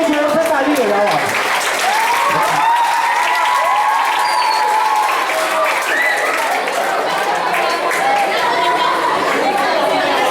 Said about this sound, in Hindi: एक बार इसके लिए जोर से ताली बजाओ आप